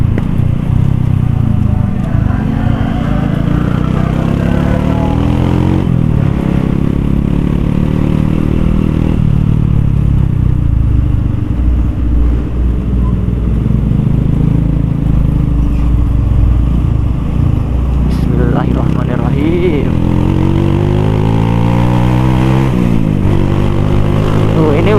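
A bored-up Suzuki Supra motorcycle with a 54 mm bore, running on RON 89 fuel, held at full throttle along a straight road, a loud continuous engine drone with rising and falling pitch sweeps as it shifts, heard up close throughout.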